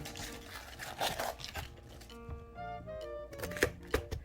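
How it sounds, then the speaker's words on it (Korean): A knife cuts through the leaves and firm core of a large, dense cabbage, giving a run of close, crisp crunching chops and taps in uneven rhythm. "먼저 큰 잎 두 장 떼어내고 반으로 갈라서 중간에 심도 잘라줍니다"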